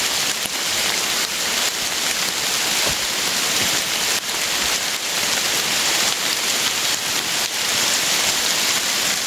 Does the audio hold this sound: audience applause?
no